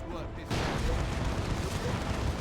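A heavy boom from a cannon emplacement in the real-time strategy game Dawn of War 2 hits suddenly, then a dense roar of battle rumbles on with no talking.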